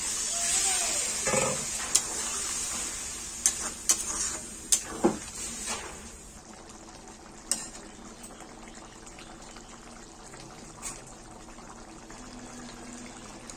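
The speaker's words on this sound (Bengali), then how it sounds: "পটলটা ভালো মতো কষানো হয়ে গেছে। এবারে জল দিয়ে দিলাম।" Pointed gourd (potol) cooks in a pan after water is poured in: a loud hiss and bubbling at first, with a few clanks of a utensil against the pan, then it settles into a quieter, steady simmer.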